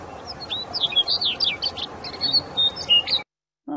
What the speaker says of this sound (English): what I thought was most striking about this video to me was the bird singing